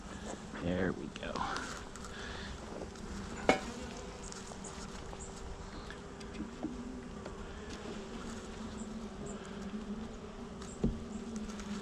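Honey bees buzz softly and steadily at an open hive during an inspection with smoke, a low continuous drone with a person talking calmly over it.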